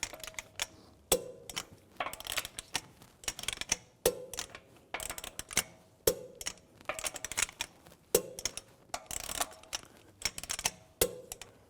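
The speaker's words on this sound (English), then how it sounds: "Now I'm going to torque these lug bolts to 110 foot-pounds in a cross pattern to tighten the wheel down" A torque wrench tightens the lug bolts of a 2004-2010 BMW X3 wheel to 110 foot-pounds in a cross pattern, giving close, sharp ratcheting clicks in short repeated bursts with brief pauses between bolts.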